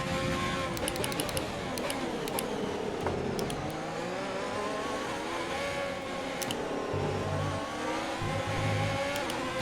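Formula 1 car engines in the racing video game F1 2020 drone and rev continuously at close range, pitch rising and falling through gear changes, with faint clicks above.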